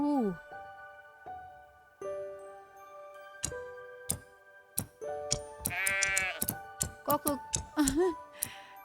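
Sheep in the farming game Everdream Valley bleat repeatedly while being sheared, short wavering calls spaced out among sharp clicks and ticks from the game, with a person talking in between.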